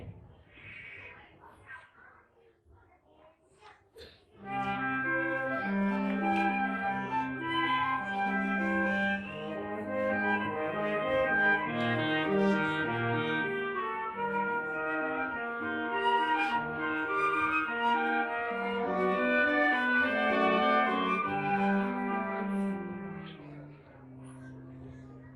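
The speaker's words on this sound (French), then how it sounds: "Alors écoutez, le thème de Pierre." Live ensemble performance of Peter's theme from Peter and the Wolf at a staged show, a bright, melodic tune with sustained harmonized notes that enters after a few seconds of quiet murmuring and plays steadily and fairly loud to the end.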